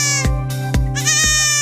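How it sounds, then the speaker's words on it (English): A goat bleating in three loud, close, wavering calls, one after another, with no talking. "Yes, it's a goat."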